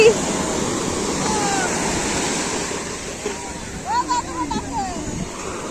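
Sea waves wash steadily onto a beach where a wedding is taking place, making a broad rushing surf noise throughout, with voices and brief higher sounds rising over it near the end.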